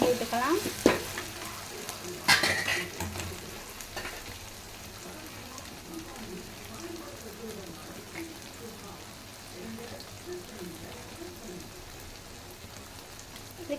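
Gobi manchurian, fried cauliflower pieces, sizzles and crackles as it is stirred in a pan, with a few clatters of the spoon early and a soft continuous fry beneath occasional talk.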